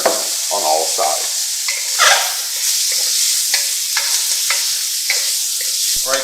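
Half-inch sausage pieces sear in a pot, a steady loud hiss of frying fat with bursts of crackle and occasional spoon stirs, close up, no talk.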